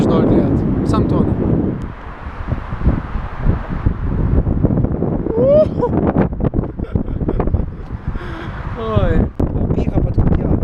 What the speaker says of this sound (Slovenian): Veter malo piha